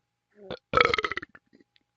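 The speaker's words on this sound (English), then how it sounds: "Hold on, I got burp coming." A single close, loud burp lasting about half a second, preceded by a short throaty sound and trailing off into small breathy noises.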